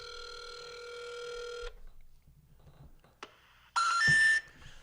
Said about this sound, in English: Call it and put it on speakerphone and put the phone right next to the microphone.